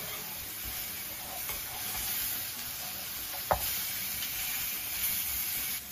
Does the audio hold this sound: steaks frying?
yes